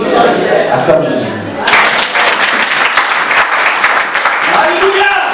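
A church congregation applauds and cheers in praise of Jesus during a worship service. The clapping swells suddenly into a loud, dense, sustained roar that fills the room and carries on steadily to the end, with voices mixed into the crowd noise.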